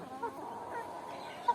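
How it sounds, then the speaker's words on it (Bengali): Golaghati naked-neck chickens and roosters clucking softly in a low murmuring run, close and quiet, ending with a slightly sharper cluck. "এগুলো হচ্ছে গোলাঘাটি মুরগি মোরগ।"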